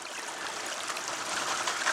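Water rushes steadily through a Gold Blitz sluice box during hydraulic gold mining, a continuous close hiss of flowing water with no speech over it.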